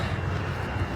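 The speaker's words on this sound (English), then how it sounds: "we got the planes right here" Airplanes passing near the Las Vegas Strip make a steady, low, rumbling roar, distant and wind-like, running unbroken throughout with no voices over it.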